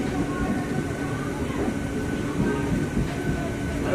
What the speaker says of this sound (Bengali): আর এই ট্রেনটা এখানে এসেই থেমে যাবে এখান পর্যন্ত